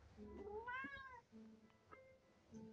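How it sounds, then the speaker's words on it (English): A cat meows several times nearby, with a long rising-and-falling cry followed by shorter, softer mews over a quiet background. "You heard the cat."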